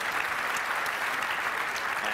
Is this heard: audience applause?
yes